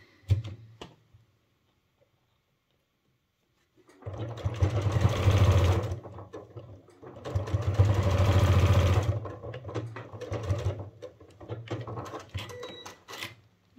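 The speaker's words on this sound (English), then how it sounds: "So now I stitch very, very close from the edge, just a straight line." A sewing machine runs straight-line stitches close to the edge of fabric for an upcycled sling bag, in two loud sustained bursts of rapid mechanical chatter separated by a short pause, with faint handling clicks before and after.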